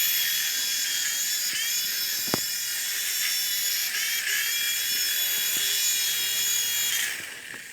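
A recycled toy helicopter's small electric motor spins steadily with a high, buzzing whine and faint mechanical rattles, close and continuous for most of the clip before easing off at the end.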